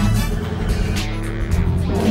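A car drives along Mulholland Drive, its engine giving a steady, close rumble with road noise and a few faint bumps, running continuously through the short stretch.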